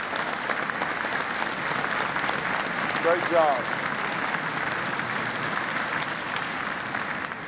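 Sustained applause from a crowd at the 2018 West Virginia State of the State Address fills the whole stretch, dense and even, with a brief spoken remark heard partway through.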